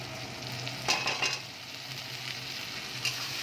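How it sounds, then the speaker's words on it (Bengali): Ginger garlic paste hits hot tomatoes in a pan and sizzles steadily, with a few sharp stirring scrapes near the start and end. "এবার আমি আদা রসুনের পেস্ট দিয়ে দেবো"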